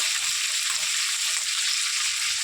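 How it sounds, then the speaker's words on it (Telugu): Chicken with spices and dried red chillies sizzles and fries in a pan for a garlic-chilli chicken fry, giving a steady, close, loud hiss that runs unbroken and then stops abruptly, with no talking. "ఇంకొంచెం ఫ్రై చేస్తున్నాము"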